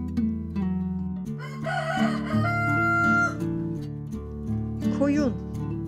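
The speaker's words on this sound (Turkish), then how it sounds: "Horoz." A rooster crows in a long cock-a-doodle-doo, loud and close, set over a steady backing of light music with a brief higher call near the end.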